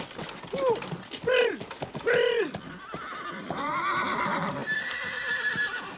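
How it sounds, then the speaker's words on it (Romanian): A horse neighs twice in loud, close whinnies, then hooves clip-clop in a steady rhythm, with a historical film setting and a faint whistle-like tone late on. "Calul ăsta e o fiară."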